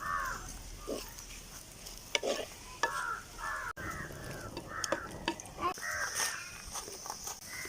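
Onions with a pinch of salt frying to brown for chicken biryani, a quiet sizzle with intermittent stirring scrapes, while a crow caws several times in the background.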